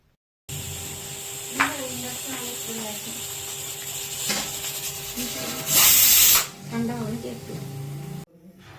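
A pressure cooker holding chicken on a high gas flame lets out one loud, brief burst of hissing steam partway through, over a steady background hum and low voices.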